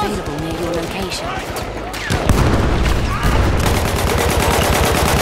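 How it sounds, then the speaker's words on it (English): Battlefield 1 gunfire rattles in rapid machine-gun bursts and fusillades that grow denser and louder toward the end, while a person talks over it. "Suppression fire!"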